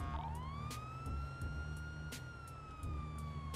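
A police car siren in GTA 5 wails in a continuous rising and holding tone, fairly close, over a low engine rumble and game sounds.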